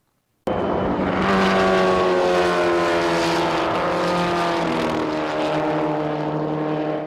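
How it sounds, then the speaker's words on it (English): Formula Ford F1600 open-wheel race car at a desert speedway, its engine note rising suddenly and roaring loudly with shifting pitch as it passes close, sustained for several seconds before cutting off. "I raced the Formula Ford or F1600 car"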